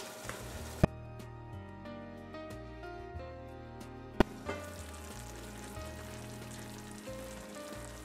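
Involtini simmer in a covered pan over low heat with a steady, soft sizzle. Two sharp knocks cut in, and tonal background music plays throughout.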